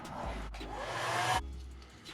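A heat gun blows a steady, close airy roar with a low motor hum while heat-setting airbrushed paint on a small bluegill fishing bait, swelling briefly then settling.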